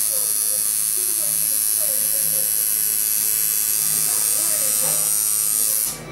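A tattoo machine buzzes continuously and close by while lightly marking an outline on skin, a steady electric hum with faint voices murmuring underneath.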